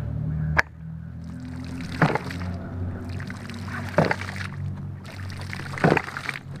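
A water ram pump with a snifter valve runs in a steady cycle, a sharp knocking clack roughly every two seconds followed by rushing, sloshing water, close and fairly loud.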